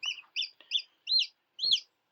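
Hens cluck in a brooder beside newly hatched chicks, giving about six short, clear clucks in a steady rhythm, close and fairly quiet, with no voices.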